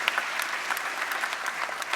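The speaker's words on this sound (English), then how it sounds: "So give this lady a nice round of applause." Steady audience applause fills a concert hall at an America the Beautiful concert honoring USO service, a dense continuous patter of many hands clapping at moderate distance with no voices on top.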